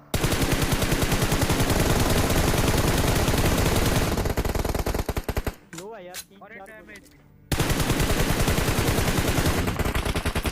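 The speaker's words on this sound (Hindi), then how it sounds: "फायरिंग जो है चारों तरफ से हो रही है" Gunfire rattles in a battle royale video game final circle, with Groza and AWM weapons in play. Rapid, loud automatic bursts run continuously, break off for a quieter moment of shifting sounds, then resume at full intensity.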